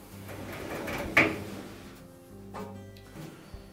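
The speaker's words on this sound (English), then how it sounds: "We'll just rotate that drum a couple of times to make sure that it does turn the" A Whirlpool dryer drum turned by hand with its belt fitted over the motor pulley, giving a sliding, scraping rumble with one sharp clack and a few softer knocks at close range.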